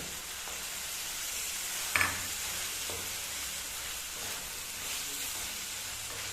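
Boiled chickpeas sizzle and fry in a pan, a soft steady hiss broken by a few scraping stirs, one sharper clink near the middle.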